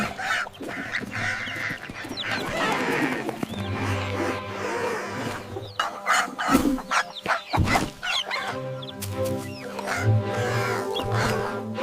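Chickens clucking and a rooster crowing in a children's monkey storytime cartoon, busy bursts of fowl calls over music and effects, loud and close.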